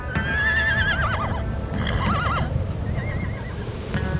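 Restless horses waiting before a buffalo roundup in South Dakota let out loud, wavering whinnies, two long neighs and a shorter third, close by over a low rumble of shifting hooves.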